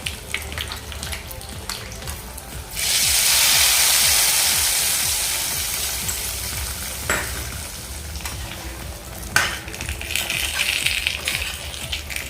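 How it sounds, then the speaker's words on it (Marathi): Hot garlic tempering is poured over cooked Kashmiri-style rajma with the gas switched off, bursting into a loud, close sizzle that slowly fades into softer crackling with a few clinks. "ही फोडणी आता आपल्या राजम्यावरती घालून घेते"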